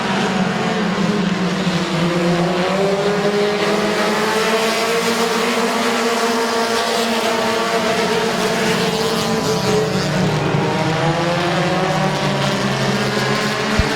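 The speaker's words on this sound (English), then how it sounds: "Busby now gets the inside pass of Eric Feaster" Race cars roar around the oval at Midvale Speedway, a sustained loud engine drone whose pitch rises and falls as the pack passes, with no talk.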